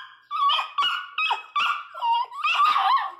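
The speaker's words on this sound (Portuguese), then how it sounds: "Olha lá, o Todd tá latindo." A miniature pinscher puppy barks in a rapid series of about six high, yappy barks, close and loud, with whiny squeaks between them.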